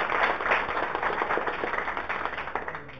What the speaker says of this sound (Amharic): እስኪ ለሁለቱም አንድ ጊዜ ጭብጨባችሁን